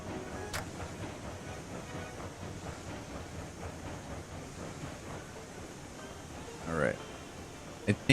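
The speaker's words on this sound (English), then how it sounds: "Slowly but surely we will get this train up." A train climbing a small grade in the Railroads Online game, a low steady rumble with faint rhythmic clicking of wheels on rails, a brief hiss near the end and a few sharp knocks after it.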